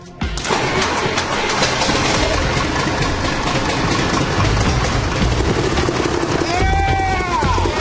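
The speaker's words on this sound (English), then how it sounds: "This engine's fixing to become very dangerous." A loud car engine runs roughly and continuously after a sudden start, with a low throbbing drone and a rising whine near the end, recorded outdoors at a test site.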